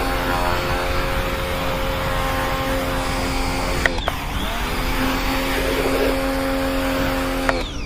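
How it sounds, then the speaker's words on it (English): A Karcher K1 pressure washer runs off a power inverter, its steady motor whine and pump hum constant and close with brief clicks and a short dip midway, no voices. "I'm running this pressure washer on inverter."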